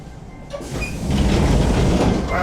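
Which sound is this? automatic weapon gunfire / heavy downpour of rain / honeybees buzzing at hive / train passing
train passing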